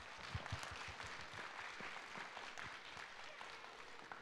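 Faint, distant audience applause at a live stage show is heard as a steady wash of many hands clapping. It stays at an even level throughout without any clear peak.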